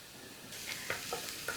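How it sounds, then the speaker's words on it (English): Garlic hits a hot pan for a homemade tomato sauce, giving a soft steady sizzle with a few light stirring clinks, faint and close, no talking. "So let's add the garlic."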